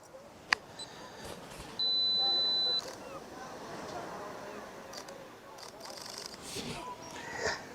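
A camera on a two-second self-timer, out on the coast at Durdle Door, gives one steady, high electronic beep lasting about a second. A sharp click comes just before it, and soft outdoor wind and noise run throughout.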